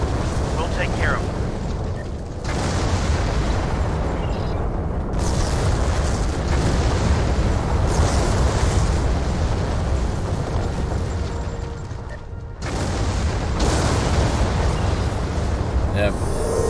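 A starship's warp core breach explosion in the Star Trek Online game: a loud, heavy rumbling blast roars on and on, dipping briefly before surging again, with a deep low-end boom throughout.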